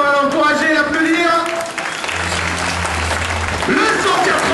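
Outdoor crowd applauding a mountain bike trial freestyle rider at a show, loud clapping mixed with an announcer's voice and a low droning hum from a sound system partway through.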